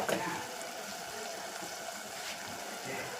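Tamarind water poured into a cooking pan of sautéed ingredients, a steady close liquid trickle and splash running throughout.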